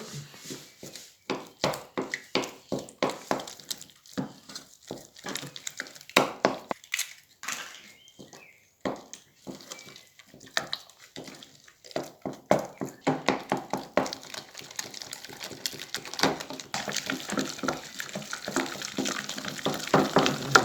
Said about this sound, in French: hors du feu, on incorpore nos œufs, un par un